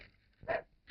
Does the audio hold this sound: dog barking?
yes